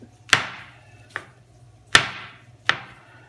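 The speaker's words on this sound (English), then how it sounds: "Then I'm going to chop a few mushrooms." A knife chopping mushrooms on a cutting board: four crisp, close knocks at uneven intervals, two sharper than the others, over a low kitchen hum.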